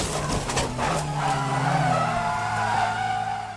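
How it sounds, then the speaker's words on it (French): Volkswagen Fun Cup race cars skid and screech in a multi-car pile-up at Zandvoort, with loud, sustained tire squeal and engine roar over continuous close track noise. "La bousculade et le carambolage qui s'ensuit sont particulièrement impressionnants"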